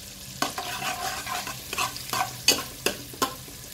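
Garlic sizzling in a pan for Italian pasta, with a utensil scraping and stirring in irregular close strokes over a steady frying hiss, no voices.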